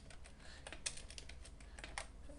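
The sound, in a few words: typing code on a computer keyboard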